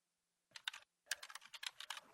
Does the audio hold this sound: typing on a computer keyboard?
yes